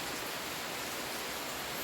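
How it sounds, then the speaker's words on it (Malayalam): Rain falls outside, a soft, steady, hissing wash of sound with no break or voices. "പുറത്ത് മഴയുണ്ട് കേട്ടോ"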